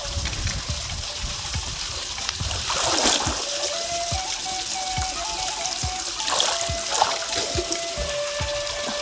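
Warm, sulphur-smelling spring water at Siwa Oasis in Egypt splashes and trickles close by, with bursts of louder splashing around the middle and again later over a steady watery wash.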